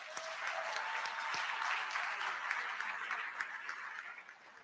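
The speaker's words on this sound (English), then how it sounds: "Shall we give them a round of applause?" Audience at an induction ceremony for newly qualified medical and dental practitioners applauds in sustained, even clapping that swells briefly and then gradually fades, moderately distant and without talk.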